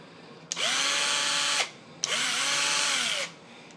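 A Black & Decker power drill runs in two bursts of about a second each, spinning up with a whine, holding a loud steady whir and winding down, with a short pause between them.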